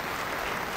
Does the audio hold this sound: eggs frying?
no